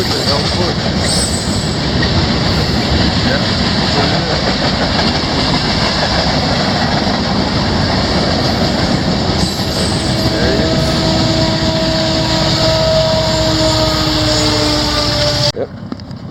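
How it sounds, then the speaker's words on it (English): A long freight train rolls along trestles beside a lake, likely pushed by a second engine at the rear, its loud continuous rumble and clatter with squealing wheels carrying on throughout as a person speaks briefly over it. "Long train. Looks like this one's got something smoking on the back of it. Might be another engine pushing."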